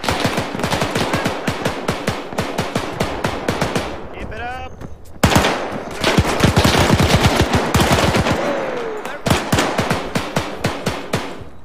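Rapid bursts of automatic gunfire from a WWII battle for Berlin in Arma 3, loud and dense with repeated volleys, a short lull midway, then continued heavy shooting.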